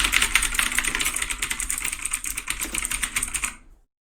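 Rapid typing on a mechanical keyboard with Cherry MX Blue switches, a dense stream of loud, crisp clicky keystrokes close up, continuing for several seconds before stopping abruptly.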